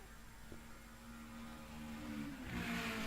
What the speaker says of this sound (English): That nice, lovely, sweet engine sound.